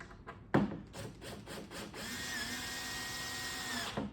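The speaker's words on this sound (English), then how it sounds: "I use this clutch drill. You just push the bolt in," A clutch power drill whirs in short bursts, then runs in one sustained whine for about two seconds, close by, driving a long bolt while assembling a house-shaped bed.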